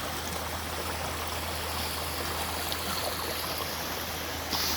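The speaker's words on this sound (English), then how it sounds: "I hear gushing water." Gushing water from a small feeder creek running into a larger creek on an Illinois farm, a steady rushing flow heard at moderate distance, continuous and even throughout without speech.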